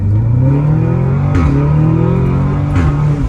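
An Audi S3 with a Stage 2 engine tune and a 034 transmission tune pulls hard, its loud engine drone climbing steadily in pitch, briefly dropping at two quick gear shifts, then rising again.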